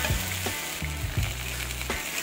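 Mixed vegetables frying with spice masala, a steady loud sizzle with a few stirring scrapes and clunks of a spoon in the pan, close and continuous with no talking.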